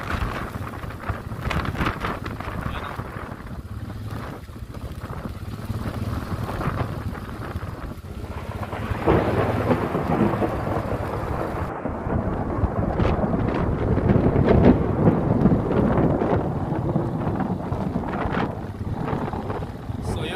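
Heavy rain and gusting wind roar steadily at a cow farm during a storm, growing louder midway with rough buffeting against the microphone throughout.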